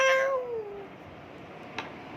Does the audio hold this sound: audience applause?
no